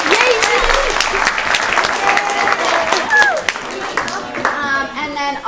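Audience applause at a student coding event, cheering the adult helpers: loud, close clapping throughout, mixed with excited children's voices and shouts over the top.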